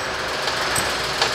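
A BMW X1 engine cranks on a weak battery, giving a continuous, rapid mechanical chatter that holds steady at close range with no talking.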